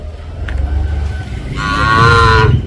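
A Hallikar calf, offspring of a stud bull, gives one close, loud moo near the end, after a quieter stretch of low background rumble.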